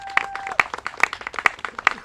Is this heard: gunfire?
no